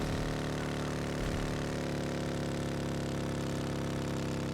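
A motorbike engine in PUBG on the Sanhok map drones at a constant steady pitch, a loud, unbroken mechanical hum with no pauses or revving changes.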